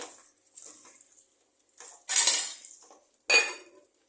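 A metal lid is set onto a cooking pot of chicken biryani masala, giving light scraping clinks followed by two sharper metallic clanks as it settles.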